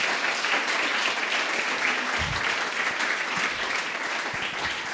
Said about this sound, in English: Please clap for them because they deserve it.